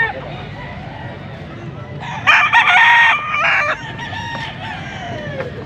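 A young rooster, a full stag of the white choco type, crows once up close, loud and brief, over background chatter and other fowl noise.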